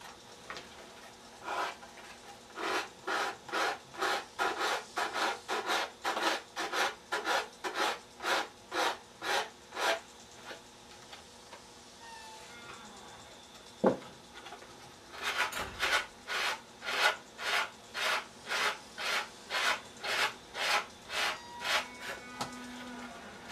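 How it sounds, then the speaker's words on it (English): Hand sanding of trimmed wooden pieces to make them fit, steady back-and-forth rasping strokes in a quick even rhythm, close up, a short pause and a knock midway, then another run of strokes. "all we're going to do now is just do a little bit of sand in to make those two fit as best we can"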